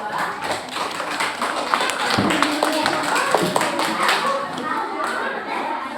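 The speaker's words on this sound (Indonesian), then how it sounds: "Beri tepuk tangan untuk kelompok 2" Students in a classroom clap for a presenting group, scattered taps and claps mixed with children's voices, thumps and movement, moderately loud and busy throughout.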